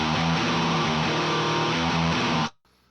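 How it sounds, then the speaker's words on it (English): Heavily distorted electric guitar with more HM-2 chainsaw pedal tone mixed in, a thick, saw-edged Swedish death metal buzz with repeated chord chugs that stops abruptly after a couple of seconds, loud with no voices. "We start bringing more of the HM2."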